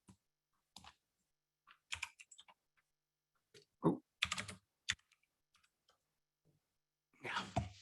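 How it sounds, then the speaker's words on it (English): Sparse, quiet clicks of typing on a computer keyboard come in short irregular bursts with long gaps, and a person briefly murmurs partway through. "Am I typing something in wrong, or it's just Twitter?"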